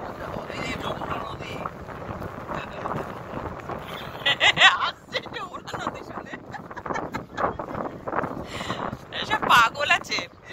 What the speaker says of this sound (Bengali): হাওয়াটা ব্যাপক।